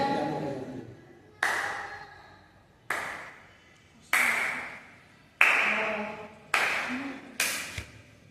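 Six sharp hand claps, spaced about a second apart, each with a short ringing decay, quiet room otherwise.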